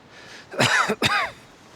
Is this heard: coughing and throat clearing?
yes